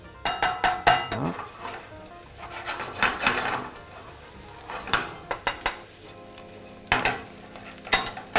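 Onions and potatoes for tartiflette are stirred in a hot frying pan, giving repeated sharp utensil scrapes and clatters over a continuous sizzle, with uneven bursts of activity and no talking.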